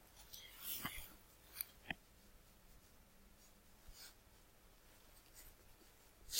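Pencil or pen writing an answer on paper during a geometry math lesson, faint scratchy strokes in short bursts with a few soft taps, quiet and close with no talking.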